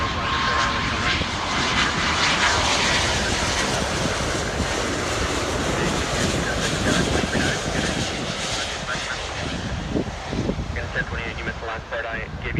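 An airliner landing at Miami International Airport roars loudly and steadily throughout, a broad jet engine rush that stays close and full, with faint radio chatter from the control tower mixed in.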